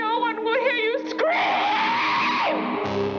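Horror promo scream effect: a wavering wailing voice rises into a long, loud sustained shriek that holds, then cuts off abruptly.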